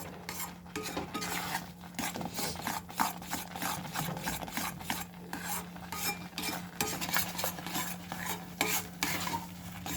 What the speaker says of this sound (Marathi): परत 5 ते 10 मिनिटं आपल्याला याला हलवून घ्यावं लागेल।